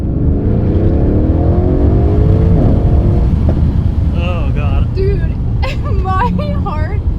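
A car accelerates hard at full throttle from launch, its engine note sweeping upward loud and close through the run, with excited voices speaking over the roar toward the end.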